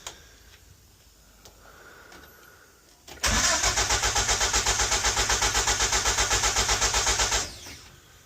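A pickup truck engine that is not getting fuel cranks on the starter for about four seconds. The loud, rhythmic churning pulses come after a quiet stretch, and the engine does not catch.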